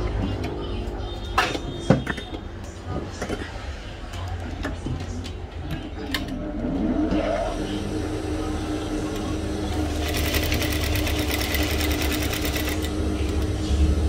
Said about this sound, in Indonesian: Ini kita jahit sesuai bentuk kerahnya.